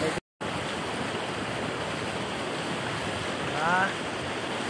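A stream of water flows steadily in Bataan, making a constant broadband rush that stays loud and close throughout, with a brief dropout near the start and a faint harmonic tone rising briefly near the end.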